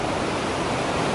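The Allagash waterfall rushes in a dense, loud, unbroken roar of white-noise water, close and steady with no other sounds standing out.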